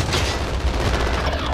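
Sustained gunfire in a video game firefight, a loud, dense, unbroken stream of rapid shots with heavy low booms mixed in throughout.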